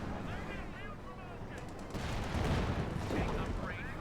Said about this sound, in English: Jaeger's being bombarded.